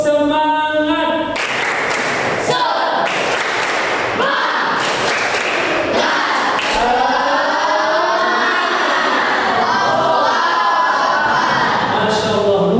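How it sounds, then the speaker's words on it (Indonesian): Classroom students perform a rhythmic group clapping chant, sharp claps in patterned bursts mixed with shouted voices, loud and close throughout, ending in cheering. "kita tepuk semangat terlebih dahulu"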